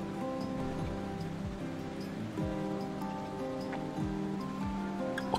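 Rain falls in the colony-building game RimWorld as a soft, steady patter of drops beneath ongoing background music, with occasional louder plinks.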